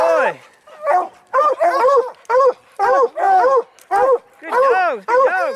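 Hound dogs on a Colorado bobcat hunt bay and bark loudly and close, in a rapid series of separate yelping bursts with short gaps between them.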